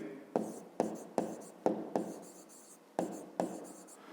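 Handwriting of a math solution on paper for a fifth-grade exercise, a run of about eight short scratching pen strokes in an uneven rhythm, close and quiet with no speech.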